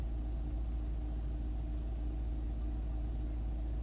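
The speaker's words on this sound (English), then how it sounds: "I've actually got the vehicle running." A car engine idles with a steady low rumble that stays even throughout, while a diagnostic app scans the vehicle.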